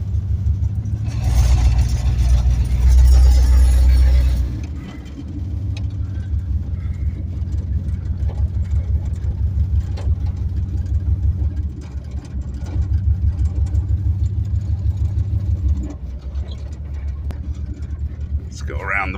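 An LS-swapped 6.4 Impala lowrider cruising, its engine a deep steady rumble that swells louder near the start and holds a low drone with slight rises and dips throughout, heard from inside the car.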